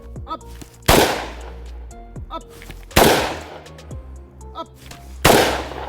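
Three loud, sharp rifle shots on a firing range, evenly spaced about two seconds apart, with faint movement and clatter between them.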